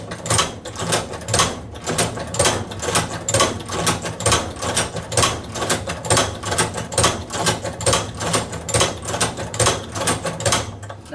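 Cowboy Outlaw hand-operated leather sewing machine stitching thick leather, with a steady run of sharp, evenly spaced mechanical clacks from repeated handle pulls, close and loud throughout.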